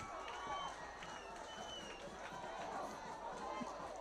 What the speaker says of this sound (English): And listen to the fans, man.